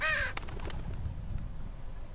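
A crow in The Walking Dead game gives one loud, harsh caw at the start, followed by a few faint clicks over a low steady ambient rumble.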